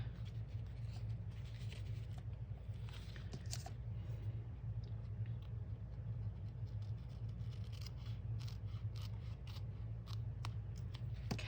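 Scissors trim paper for a small journal, giving quiet, close snips and light crisp cuts scattered over a soft steady background hum.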